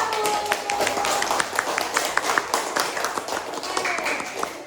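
A primary school class claps for the first presentation group in a science lesson, a scattered, uneven patter of hands with distinct sharp claps, while a voice talks over it.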